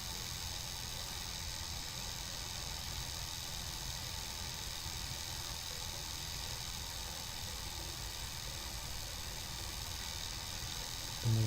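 Steady, continuous drone of a Honda Blade 110 motorcycle engine while riding, with wind rush over a constant hum and no breaks.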